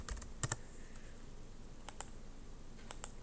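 Sparse, quiet keystrokes on a computer keyboard in a quiet room: a pair of clicks, a short pause, then a few more taps, faint against low background hiss.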